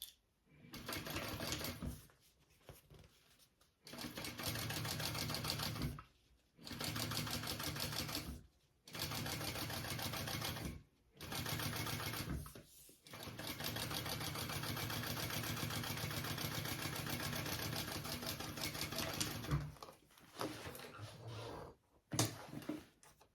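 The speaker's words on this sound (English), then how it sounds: "I'm going to top stitch along that." A sewing machine top stitches a bag panel in several bursts, running with a steady, fast mechanical whir that stops and restarts between runs, close and clear with no talk.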